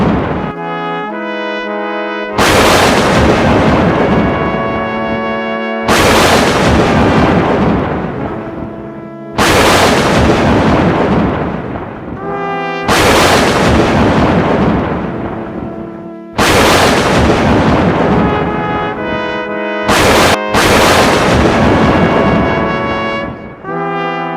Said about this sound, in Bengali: এদিকেই ঝমঝমিয়ে বৃষ্টিও পড়তে শুরু করলো